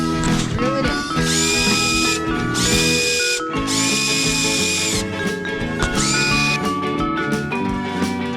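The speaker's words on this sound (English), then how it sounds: "and just drill it in." A power drill drives hardware into a skateboard deck, its loud motor whine surging and dropping in several sustained bursts with brief pauses between them.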